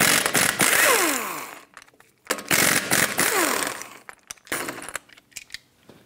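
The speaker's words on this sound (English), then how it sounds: "take off all five of your lug nuts" An impact wrench with a 19 mm socket spins lug nuts off the front wheel of a 2012-2020 Ford Focus in several loud, close bursts of whirring and rattling, separated by short pauses and clinking metal handling.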